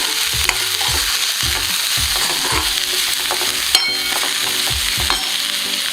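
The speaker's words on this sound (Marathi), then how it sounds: "तूप टाकून एक चमचा छान परतून घेऊ" Vegetables sautéing in a spoonful of ghee, with a spoon scraping and tapping the pan in quick repeated strokes over a loud, steady sizzle, close by and without speech.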